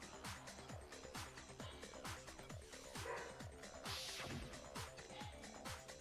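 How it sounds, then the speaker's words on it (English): Dogs bark and yip repeatedly in a rhythmic run over a busy, dense soundscape in the Danganronpa game, with a brief crash-like burst midway; the barking stays steady and moderately loud throughout. "You might hear dogs barking in the background."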